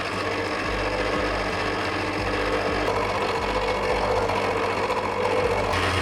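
Stand mixer running steadily at low speed as milk and egg yolks are slowly added to sweet bread dough, a continuous motor whir with a rhythmic mechanical churn throughout, fairly loud and without talk.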